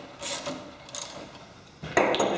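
A socket ratchet clicks as a screw is tightened on a wheelchair during seat-height adjustment, short bursts of close ratcheting separated by brief pauses, with a loud final run of clicks near the end.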